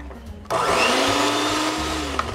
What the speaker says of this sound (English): And now I'm whipping the egg whites